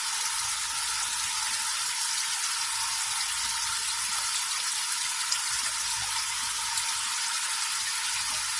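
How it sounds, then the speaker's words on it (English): Water running steadily from a kitchen sink tap, a constant even hiss with no pauses, close and fairly quiet, with no talking. "That's my sink. Water running."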